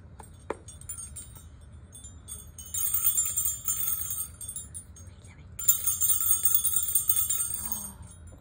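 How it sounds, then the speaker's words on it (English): Sleigh bells jingle in two bursts of bright metallic shimmering, the first from about three to five seconds and the second after a short pause, louder and ringing on before fading, with a small knock near the start. "sleigh bells like these?"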